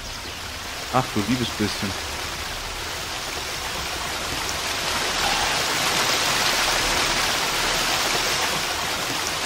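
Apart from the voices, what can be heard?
waterfall in the video game Gothic 2 mod Odyssee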